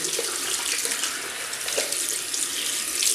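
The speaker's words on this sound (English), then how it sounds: "Just rinse my hands" Hands rinsed under a running tap at a bathroom sink before shaving, a loud steady splash of flowing water filling the whole stretch with no talk.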